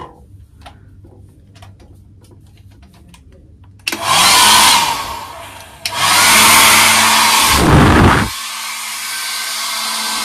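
Hotel bathroom hair dryer roaring loud and close in two bursts, with a brief pause between them, then cutting off to quiet room tone.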